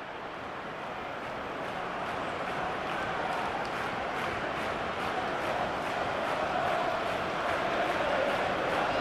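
Football stadium crowd in a Burton versus Plymouth second half, applauding a player being substituted off, a broad sustained wash of clapping and cheering that swells slightly over the clip, heard from a distance with no clear talk.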